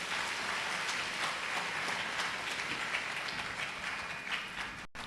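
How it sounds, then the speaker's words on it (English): Sustained audience applause in a hall at a university congregation ceremony, a thick continuous wash of clapping from many people lasting about five seconds before cutting off abruptly. "Shall we do the applause again, please?"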